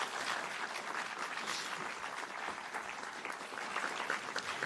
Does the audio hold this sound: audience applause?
yes